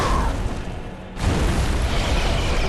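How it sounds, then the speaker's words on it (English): Cannon blast in the video game Bloodborne, fired at a boss: one loud boom marked by a brief dip and then a sudden burst of noise, set within a dense, loud game mix. "if you shoot the cannon into her face"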